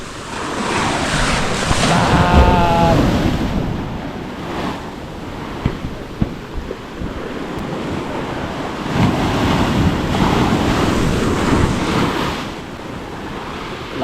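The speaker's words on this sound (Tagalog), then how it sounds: "Magsalpok ang alon ah." Ocean surf rolls onto a beach in broad, loud surges, heavy wind noise rumbling over the microphone and a brief faint tonal whistle early on, with no voices heard.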